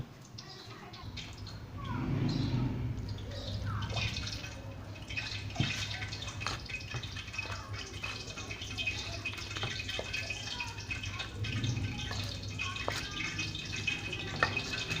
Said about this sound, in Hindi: अभी इसमें नाज़रीन थोड़ा पानी और शामिल करेंगे।